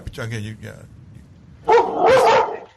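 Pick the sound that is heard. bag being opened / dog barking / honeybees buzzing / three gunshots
dog barking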